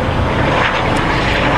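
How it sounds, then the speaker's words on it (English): A helicopter rumbles overhead with a steady, broad engine roar that fills the whole clip and sounds fairly close. "And we've got a helicopter going overhead."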